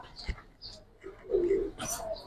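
Silver giribaz pigeons coo softly nearby, a few short low coos and throaty calls mixed with light clicks and rustles, with a voice talking faintly in the background.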